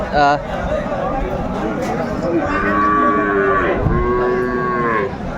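Friesian cross bull calves at the Aftabganj cattle market in Dinajpur, with long, loud, drawn-out moos from nearby animals over a low murmur of voices.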